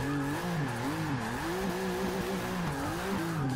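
A rear-wheel-drive Subaru STI build in Forza Motorsport 6 accelerating, its engine drone wavering up and down steadily and loud throughout, with a hint of tire noise and no voices.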